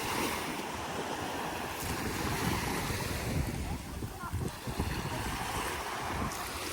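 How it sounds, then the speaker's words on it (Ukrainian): Sea waves wash steadily onto a gently sloping pebble and sand beach at a hotel in Kemer, Turkey, a continuous broadband surf hiss with wind noise buffeting the microphone throughout. "І подивіться сам пляж. Тут галька і пісочок. І буде пологий захід у море."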